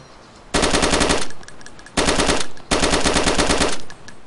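Three loud bursts of automatic gunfire in the video game DayZ, close and sharp, each lasting around half a second to a second, separated by brief gaps, with no talking.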